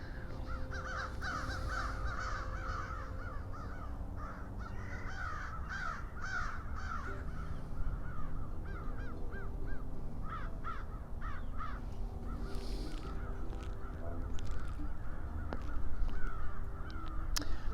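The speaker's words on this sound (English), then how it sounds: "got the crows flying overhead here." Crows caw repeatedly over a low background rumble, with calls coming in scattered bursts, some nearer and louder, others farther off.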